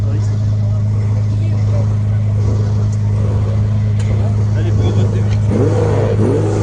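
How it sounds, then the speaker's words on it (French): A Porsche 911 3-litre RSR race car, number 284, appears at a Tour Auto 2026 stage stop at Aeroscopia in Toulouse Blagnac. A loud, steady engine drone fills the clip and rises in pitch near the end, with voices faintly underneath. "Voilà, la numéro 284, cette Porsche 911 3 litres RSR."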